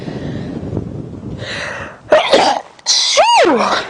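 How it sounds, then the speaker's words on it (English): A single loud sneeze bursts out after a couple of sharp inhales during a live safari drive, followed by a brief high squeaky noise; close and clear. "Oh my goodness, I got another sneeze coming on."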